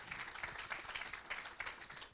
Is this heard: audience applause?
yes